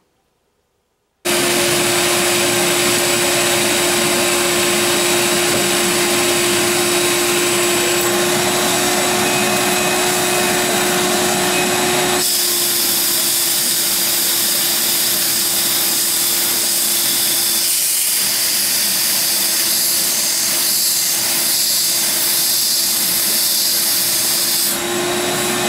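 Walnut blasting equipment cleans the intake valves of an Audi Q7 engine with a loud, steady rushing hiss of air and media that runs without a break, its tone shifting partway through.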